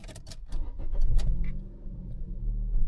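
A Fiat Panda 4x4 engine cranks and catches after some keys jangle, then settles into a steady low idle rumble close by, with no talking.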